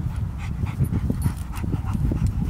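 A year-old dog panting rapidly and rhythmically close to the microphone, quick breathy huffs with a faint whine mixed in, no talking over it.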